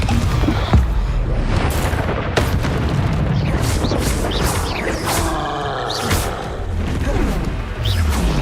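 Combat in the game Hogwarts Legacy, where a Confringo fire spell explodes with booming, crashing blasts over a dense, loud roar of battle effects and whooshing magic.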